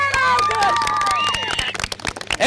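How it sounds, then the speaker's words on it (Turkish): An outdoor crowd at a street show in Meram Bağları, Konya, claps and cheers amid loud whistles and excited voices, with brisk clapping throughout the short stretch. "Kocaman alkış."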